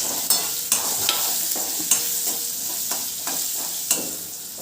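Mango pieces for a sweet chutney, with turmeric and asafoetida, stirred in a pan, giving a steady sizzle broken by repeated sharp scrapes of the spoon, loud and close with no voices.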